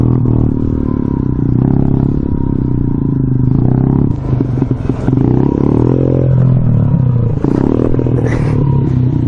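A motorbike engine revs hard and continuously during a wheelie attempt, a loud, close, droning roar that rises and falls with the throttle and holds for the whole stretch.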